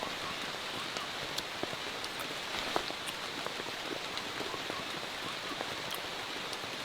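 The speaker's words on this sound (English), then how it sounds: "Rain today." Steady rain pattering on foliage and surfaces in a Florida rainforest, a continuous even hiss with scattered individual drops standing out, close and moderately loud throughout.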